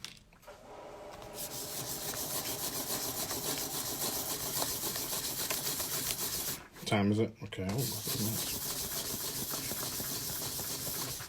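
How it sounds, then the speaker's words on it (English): Continuous abrasive sanding of a coin ring with a steady rasping hiss, briefly interrupted when a person speaks, then resuming. "So what I do is go back to the sanding."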